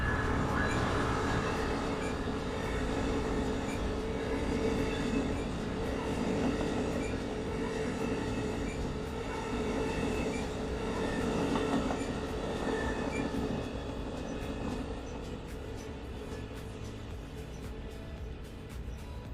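An Amtrak long-distance train passes through Ashland with a continuous heavy rumble and rhythmic clickety-clack of wheels on rails, steady and fairly loud for nearly twenty seconds before easing slightly toward the end, with no talk.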